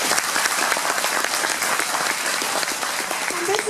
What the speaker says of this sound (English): Truly, he does deserve a round of applause.